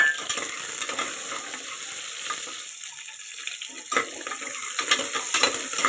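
Mustard seeds, onion and curry leaves temper in hot oil in a pressure cooker, giving a continuous hissing crackle with a few scraping stirs, near and steady, without talk.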